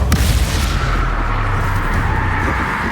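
Spell explosions in Hogwarts Legacy, heavy booming blasts that land back to back into a dense, loud rumbling barrage with no pause.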